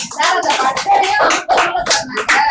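Audience clapping at a talk on astrology, a few seconds of loud, close, uneven claps in quick bursts that swell and dip, with no clear talk over them.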